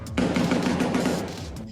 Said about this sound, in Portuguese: A noite foi marcada pelo som dos tiros